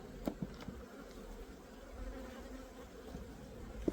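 Steady low insect buzzing from many honeybees close by at an open hive, with a few soft knocks and rustles at the start and end.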